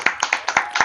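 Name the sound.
audience applause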